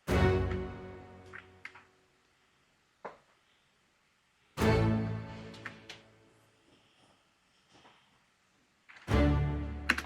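Strings from a pop-soul production of a song, played alone as sustained chords that swell in roughly every four seconds and fade, with short plucked accents between them and no voices.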